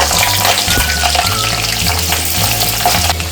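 Potato french fries deep-frying in hot oil in a kadai give a loud, dense, continuous bubbling sizzle, close up and steady throughout, with a low hum underneath and no speech.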